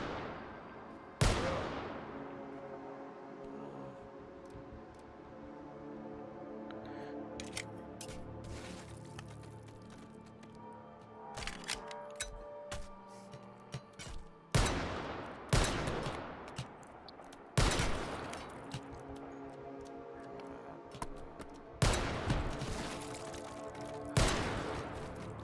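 Video game gunfire rings out in repeated sharp bursts, loud cracks and volleys spaced irregularly across the stretch, with quieter rattling and background game sound between the shots.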